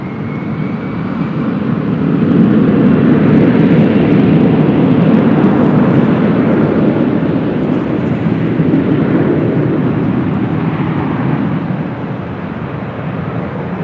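A Delta jet roars down runway 24 left at LAX on its takeoff roll, a loud broadband rumble that swells over several seconds, holds, then eases slightly as the aircraft climbs away, with no talk over it.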